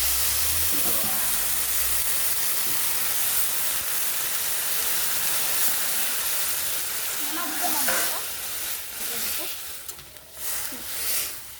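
Masoor lentils, fried a few minutes in a hot pan, hiss and steam loudly as water goes in, a steady broad sizzle with a brief surge of bubbling and spatter near the end.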